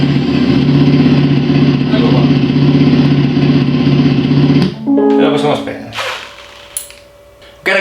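A Super Soco TC Max electric motorcycle plays a simulated engine sound through an app-controlled sound effect unit, a loud steady idling drone that cuts off abruptly, followed by brief clicks and a short rev burst.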